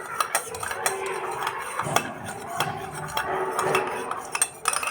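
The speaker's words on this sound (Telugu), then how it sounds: "మంచిగా వైట్ కలర్ వచ్చేదాకా మిక్స్ చేస్తూనే ఉండాలి" A batter is mixed until it turns white, producing steady, rapid scraping and clinking of a utensil against a bowl, close and continuous with irregular sharper taps.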